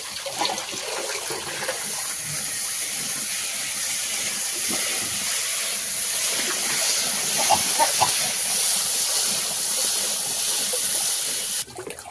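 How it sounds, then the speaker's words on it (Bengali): Taro and fish curry bubbling in a pan: a steady watery boil with a broad hiss, soft popping bubbles, and a few brief clinks near the end, close and continuous with no voices. "তরকারিটা ফুটে উঠেছে"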